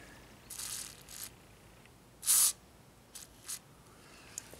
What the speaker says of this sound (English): I'm gonna spray it right in here is one area.